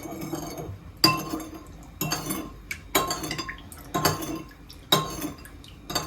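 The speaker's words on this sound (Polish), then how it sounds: "Mieszamy, żeby nam się cukier rozpuścił." A spoon stirs sugar into a marinade for pork ribs, clinking against a glass bowl in steady strokes roughly once a second, close and clear with swishing liquid between the knocks.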